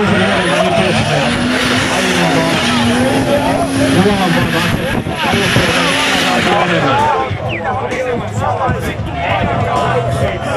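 A BMW E28 M535 turbo does a burnout, its engine held at a loud, sustained drone with wavering pitch and a continuous tyre roar, close and dense throughout, with someone talking over it.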